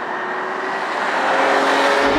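A 2020 Mercedes GLS engine pulls hard through a corner, a steady loud drone building slightly in intensity, heard from inside the cabin with no talking.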